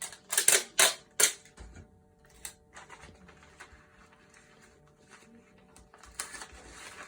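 Newspaper folded around a shipping package for a baby Leachianus gecko: a few sharp, close crinkling crackles early on, then softer intermittent paper rustles and handling noises.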